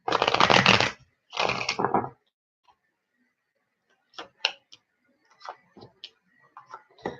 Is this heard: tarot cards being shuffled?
yes